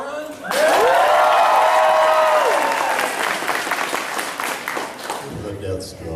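An audience breaks into loud, sustained applause with some cheering, and the clapping slowly thins out near the end.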